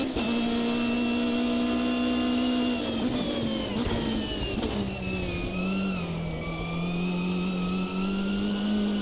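Race car engine in the sim racing game Automobilista 2, loud and close, holding a steady high drone that dips as the car slows around the middle and then climbs back up on acceleration, with no talking.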